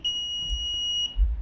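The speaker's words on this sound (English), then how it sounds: "when it will be just above the threshold level you can hear the beep" An MQ135 gas sensor air quality alarm built on an Arduino sounds a steady, piercing electronic beep tone, held continuously for over a second at close range with a low rumble of handling underneath.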